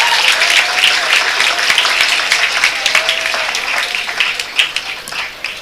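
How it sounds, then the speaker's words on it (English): A round of applause for participants at a business strategy challenge valedictory, a close crowd clapping loudly with crisp individual claps and a faint whistle, gradually thinning toward the end. "So I think all the participants deserve another round of applause."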